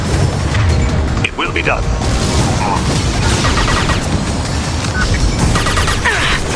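Gunfire and booming impacts in the sci-fi shooter Mass Effect 2, with repeated shots and blasts layered under a brief spoken line and ongoing battle noise.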